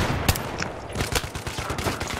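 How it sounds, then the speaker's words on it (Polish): Gunfire exchange in a shooting video game, with rapid cracks and bursts of shots crowding together at close range, some shots sharper and louder than others, continuing throughout with no pauses. "to jest jaka wymiana strzałów."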